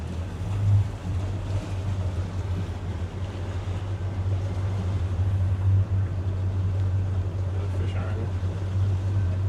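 A Scout 355 LXF boat heads out from Gordon Pass onto open water in Florida, with a constant low engine rumble under wind and rushing water.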